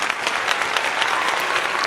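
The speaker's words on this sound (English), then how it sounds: "So a Johnny Wilkinson round of applause goes to Leah and also to Jack" A round of applause at a critical care gathering in Northampton, an even, continuous patter of many hands clapping that stays fairly loud throughout with no talking over it.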